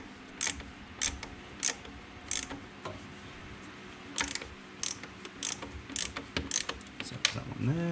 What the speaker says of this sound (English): Need to crack that one out. It looks like the whole thing's unscrewing